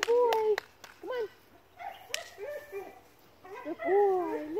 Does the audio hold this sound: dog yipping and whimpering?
yes